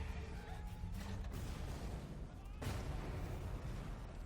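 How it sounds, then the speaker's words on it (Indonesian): A deep rumbling explosion with a sustained roar, followed by a second blast and continued rumbling noise, from the film Mojin: The Lost Legend. "tempat itu pun meledak."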